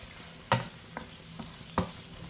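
Pork liempo adobo simmering in coconut milk is stirred with a utensil, giving four short scraping knocks against the pot, two of them louder, over a soft bubbling background with no voices.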